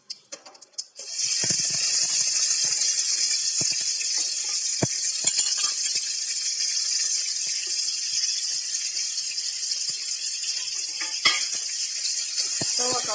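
Ivy gourd (kovakkai) hits hot oil over a high flame and breaks into a loud, steady sizzle that holds constant, with occasional faint clinks of stirring.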